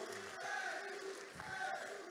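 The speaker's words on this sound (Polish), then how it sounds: "Brawa, wielkie brawa, proszę was bardzo." A crowd at an MMA gala roars and claps, loud broadband cheering with a few raised voices rising above it, sustained across the whole moment.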